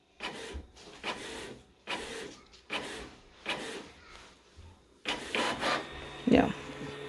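A printer runs a photocopy with repeated rhythmic mechanical sweeps and rasping feed strokes, moderately loud and close, ending in a burst of louder whirring as the sheet comes out.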